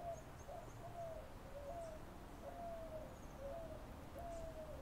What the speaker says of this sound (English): If the song of the birds come through the mic, you can pay attention to the birds.